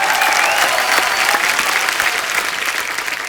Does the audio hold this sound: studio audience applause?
yes